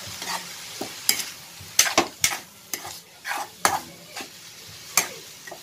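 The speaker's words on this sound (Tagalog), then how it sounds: "haluin po natin yung ground chicken natin" Ground chicken frying in a pan as it is stirred, a soft steady sizzle broken by repeated sharp scraping and clinking strokes of a utensil against the pan, close and irregular, with no talk.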